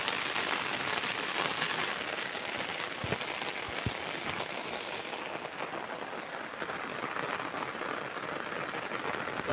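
Steady rain from a Bay of Bengal low-pressure system falls with an even hiss, occasionally broken by a few heavier drops.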